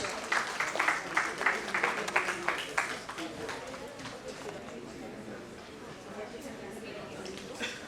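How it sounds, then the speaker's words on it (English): Audience applause welcoming a speaker onto the stage at an education-technology talk, loud dense clapping at first with some louder individual claps, then thinning into a softer wash of clapping and crowd murmur. "Can we all have a huge round of applause and let us all welcome him on stage?"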